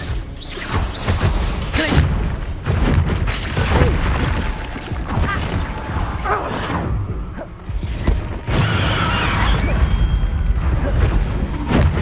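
Spell explosions from Confringo and Bombarda in the Hogwarts Legacy video game: a dense, loud stretch of blasts, booms, crashes and whooshes, layered with battle effects throughout.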